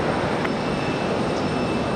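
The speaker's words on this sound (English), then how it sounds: "gonna see an F-15 just heading through right" An F-15 fighter jet passes over Raleigh-Durham International Airport on approach, a steady broadband engine roar that holds even and fairly loud throughout, without clear rise or fall.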